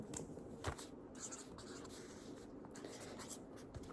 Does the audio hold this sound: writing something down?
yes